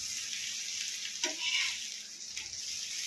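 Bangda (mackerel) fish fries in a pan with a steady, close hiss and sizzle, broken by a brief clatter and flare of sizzling as the fish is flipped.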